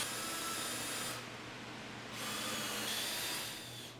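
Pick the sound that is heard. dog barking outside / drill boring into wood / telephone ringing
drill boring into wood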